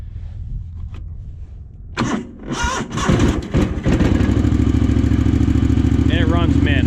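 Engine from a junkyard Bolens QT16 garden tractor, carb freshly cleaned, starts with a few sputters and clatters, then settles into a steady, loud, even idle close by.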